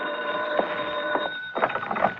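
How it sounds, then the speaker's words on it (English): A telephone rings in an old-time radio detective drama, a steady electric bell tone with repeated ring bursts, close and clear with a slight background hiss. "I got a phone call."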